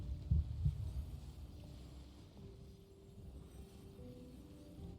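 Low, quiet heartbeat sound effect from the Genshin Impact video game, a few soft thumps early on followed by a steady low hum and throbbing drone, with no talking.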